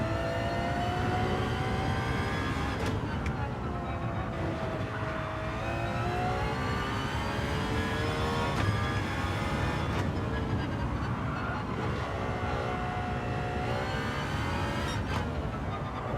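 A race car engine in Gran Turismo 7 drones steadily throughout, with rising and falling revs as gears shift and the car accelerates, a continuous whining engine tone with no talk.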